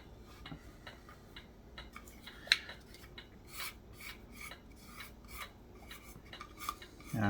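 Tiny plastic diamond painting drills click and rattle as they are put into a container, a quiet run of irregular small ticks and scrapes with no talking.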